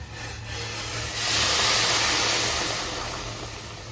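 Hot water poured into curry frying in a pan, giving a steady loud hiss and sizzle that swells and then slowly settles.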